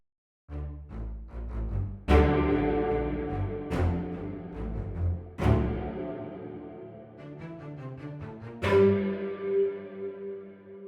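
Orchestral patch run through a Marshall amp head, a large warm hall reverb and a Roland Dimension D, producing loud, swelling chords with sharp attacks and long, washy reverberant tails, heard alone.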